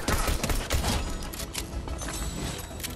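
Rapid bursts of pistol gunfire in Fortnite, sharp repeated cracks packed closely together and fairly loud, trailing into a busier rattle of game effects.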